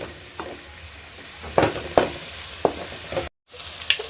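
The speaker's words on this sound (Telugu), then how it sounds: "ఒక ఐదు నిమిషాలు దాకా మంచిగా మగ్గించుకోవాలా ఉల్లిపాయ ముక్కలు మంచిగా మగ్గించుకుంటేనే మన పులుసులో బాగా టేస్ట్గా ఉంటుంది" Onion pieces sautéing with hing in a pan, a continuous sizzle broken by several sharp spoon scrapes and stirs, close up with no voices.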